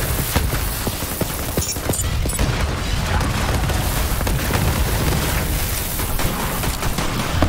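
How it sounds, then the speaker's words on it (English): A loud, dense explosion in a video game, triggered by the player on themselves, rumbling and crackling steadily without letup for several seconds, with no talk over it. "I exploded myself"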